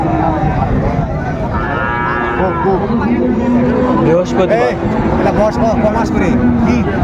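Heifer calves of Friesian and Sahiwal breeds at a twice-weekly cattle market, with occasional moos rising over a constant dense crowd din and steady chatter from traders.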